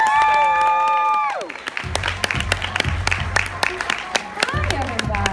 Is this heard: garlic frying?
no